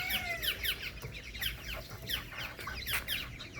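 Silkie, cochin and other pet chickens clucking and chattering close by, a busy overlapping run of short calls repeating in quick succession.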